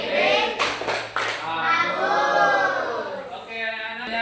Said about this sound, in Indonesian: kita kasih tepuk jempol dulu ya